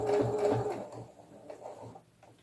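A sewing machine stitches a second seam on fabric for a rag doll's pajamas, a quick run of rhythmic whirring that fades to quieter mechanical taps and handling sounds, close and alone.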